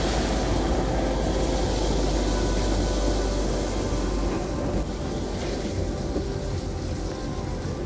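Steady, loud broadband rumble and hiss of Channel Tunnel trains running under the sea between the UK and France, a continuous roar that holds level throughout with no speech.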